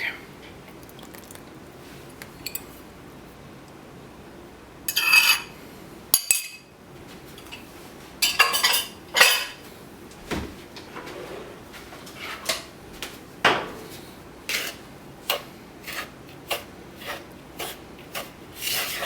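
Buttermilk being worked into flour for biscuit dough, heard as soft scraping and rubbing strokes against a bowl, quiet at first and then coming in frequent short bursts with no talking.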